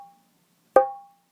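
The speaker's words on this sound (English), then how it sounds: "you're going to hit this part of the drum with this finger" A single sharp fingertip strike on the head of a dholak drum rings out with a bright, ringing tone that decays quickly in quiet surroundings, preceded by the faint tail of an earlier stroke.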